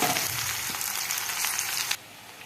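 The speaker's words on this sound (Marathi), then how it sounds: "आता टाकूयात शेंगदाणे. शेंगदाणे पण छान घेऊयात असे भाजून." Peanuts roasting in a pan for kanda poha give a loud, steady crackling sizzle that fills about two seconds, then drops abruptly to a quieter low hiss.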